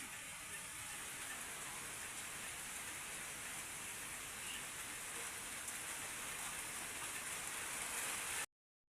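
A steady downpour of heavy rain falls outside a house during cooking, producing an unbroken, dense hiss of drops on surfaces at constant loudness, with no voices present.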